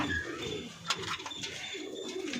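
High-flying pigeons coo inside a loft, soft throaty coos overlapping with wing flutters and faint chirps, steady and close against a busy background hum, with no talk.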